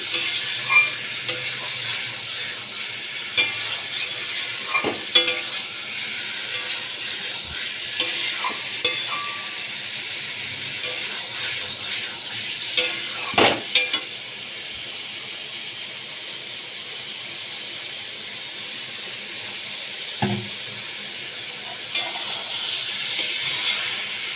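Young jackfruit and shrimp sauté in a pan, a continuous sizzle and hiss with intermittent scraping stirs and clinks of a spoon against the pan, close and fairly loud.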